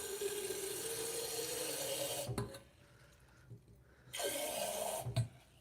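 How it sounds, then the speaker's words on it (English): Tap water runs steadily from a faucet, then stops for a couple of seconds amid quiet breathing and handling noises before the flow starts again, loud and close. "And I'm using tap water"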